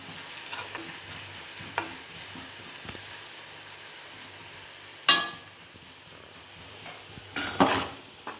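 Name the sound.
onions frying and being stirred in a pan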